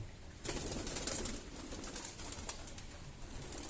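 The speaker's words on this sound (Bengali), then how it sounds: "কবুতর সব নিচে নামছে।" Domestic pigeons in a coop during rain give soft cooing and brief wing flaps, close by, over a steady hiss of rainfall.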